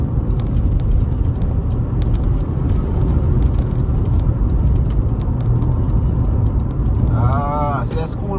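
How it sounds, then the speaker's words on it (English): A school bus on a Jamaican road passes in the opposite direction, heard from inside a moving vehicle as a steady loud engine and road rumble with constant wind noise, while a voice talks over it. "See a school bus coming in the opposite direction there."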